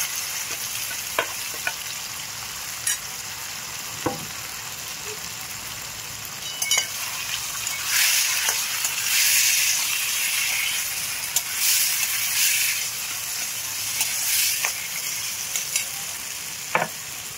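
Cabbage and potato filling with nigella seeds frying in a pan for vegetarian kachori, a steady close sizzle with scraping stir strokes and brief louder hissing bursts throughout.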